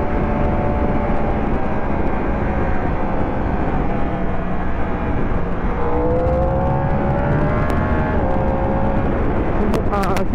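Yamaha R1 sport motorcycle engine droning steadily while riding through traffic, a continuous loud whir with rising and falling pitch as it shifts through gears, with occasional sharper revs near the end.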